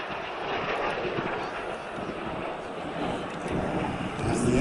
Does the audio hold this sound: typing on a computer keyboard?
no